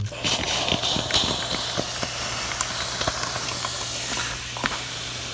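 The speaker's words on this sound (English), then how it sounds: "I'm going to just steam it with an iron" Steam iron hissing over a crochet piece pinned to cardboard, a steady close breathy hiss running throughout with small clicks and taps scattered through it.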